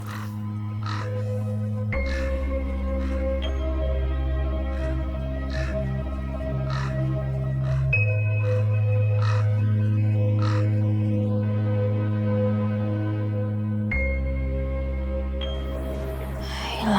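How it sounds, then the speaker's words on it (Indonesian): A crow caws repeatedly near a house, with sharp calls over a sustained low tonal music bed that runs throughout. "ada suara burung gagak di daerah rumah kita"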